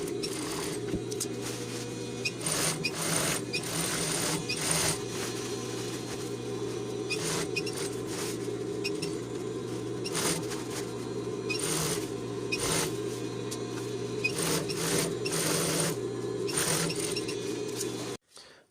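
A sewing machine stitches the sleeve seam of a rain jacket in a steady, continuous mechanical whir with a low hum, broken by sharp intermittent ticks and clicks before stopping abruptly at the end.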